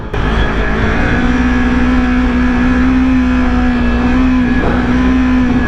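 A small motorcycle, a 400, holds a loud steady engine drone with the throttle rising and easing while lifting into a sit-down wheelie, close and continuous with one brief dip near the end.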